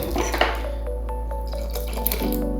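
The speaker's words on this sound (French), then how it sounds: "je vais rajouter un petit peu d'eau" A small amount of water is poured into homemade liquid soap, a faint trickle and a few drips over a steady low background hum, with no talking.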